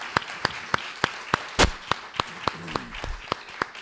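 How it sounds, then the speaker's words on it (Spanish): Scattered hand claps, a dozen or so sharp claps at a steady pace, with one louder burst midway; sounds like thin applause from a small group. "un aplauso muy fuerte para nuestros dos presentaciones"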